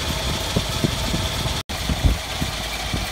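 A Toyota Land Cruiser 45 with a 2F engine idles with the lead pulled off cylinder 1, giving a close, steady rumble with faint irregular knocks and one very brief dropout in the middle.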